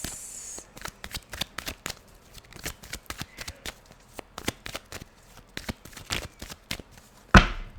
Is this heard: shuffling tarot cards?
yes